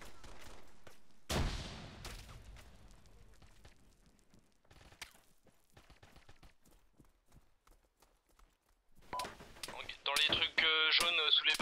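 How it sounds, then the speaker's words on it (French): Automatic gunfire in the military shooter Arma 3 during a co-op operation, heard as scattered distant shots and then a loud, rapid burst of near, sharp reports at the end, with radio-like talk nearby. "Il y a un mec au nord-nord-est qui me mitraille."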